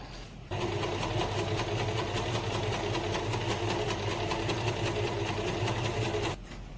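An Usha Janome Excella sewing machine stitches with stitch length set to 2, a steady mechanical whir with a fast rhythmic needle tick that begins and stops cleanly, close and alone.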